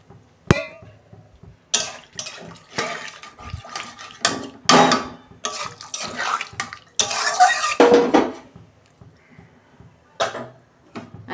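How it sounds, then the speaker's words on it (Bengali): Water poured into a pan of elephant foot yam and potato curry in a home kitchen, heard as several short splashing pours mixed with clinks of metal utensils against the pan, close and intermittent. "আমি জল দিচ্ছি, পরিমাণ মতো জল দেবো, বেশি জল দেবো না"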